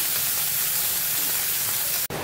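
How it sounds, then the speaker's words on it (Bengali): Sea fish, noya mach, frying in hot oil in a kadai: a steady, dense sizzling hiss that cuts off abruptly near the end. "এই মাছগুলো ভেজে নিব।"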